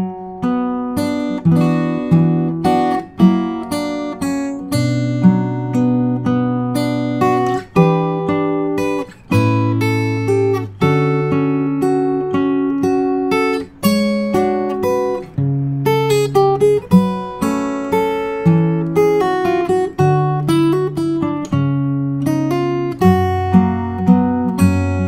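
Fingerstyle acoustic guitar playing the Howl's Moving Castle theme, a close, clear waltzing melody over plucked bass notes and chords, steady and unaccompanied.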